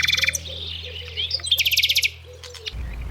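A nightingale sings in repeated bright chirps and short trills, clear and fairly close, over a steady low hum, and the song ends in a burst of rustling noise.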